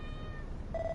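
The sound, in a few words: cat meowing in video game Dragon Quest Builders 2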